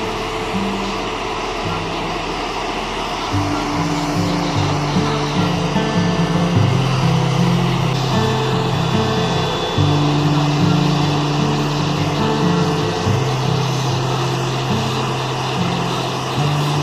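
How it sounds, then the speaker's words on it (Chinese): Heavy engine drone from a bridge girder carrier as its wheels steer through 90 degrees, a loud, steady rumble with shifting mechanical tones that rise and fall over its length. "车轮转向了，转一个90度，全部都在转"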